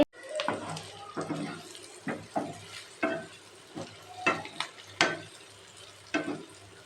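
Spoon stirring egg masala in a pan, with soft scraping, squelching strokes repeated at a steady, unhurried pace over a faint sizzle, close and fairly quiet.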